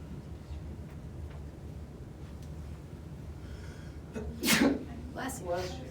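A single sharp sneeze bursts out near the close, loud and close by, with a softer breathy follow-up, over a low steady hum of room noise.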